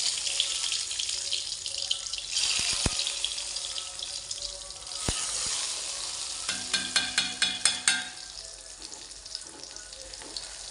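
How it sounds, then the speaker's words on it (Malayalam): Brinjal slices fry in hot oil for a buttermilk pulissery curry, a steady bright sizzle with clattering stirring and scraping knocks near the end. "ഇനി നമ്മളിത് വഴുതനങ്ങ പൊരിക്കുകയാണ് മോരിനകത്തിടാൻ പുളിശ്ശേരിക്കകത്തിടാൻ"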